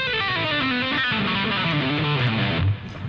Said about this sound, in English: if I didn't palm mute, it would just sound like this